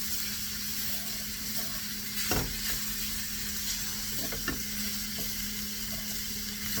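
Chicken and garlic sizzling steadily in a hot pan as flour is stirred in, a continuous close frying hiss with a few soft scraping clicks of the spoon and no talking.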